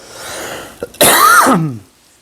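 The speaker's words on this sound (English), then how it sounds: "Excuse the coughing, I'm still sick" A single harsh, loud cough up close from a sick person, preceded by a quieter throat noise, then fading out.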